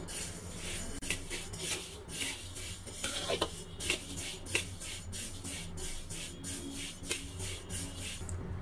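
Sesame seeds roasting in a pan over a slow flame are stirred with repeated soft scraping and rasping strokes, a steady rhythmic rubbing texture at moderate closeness with no talking.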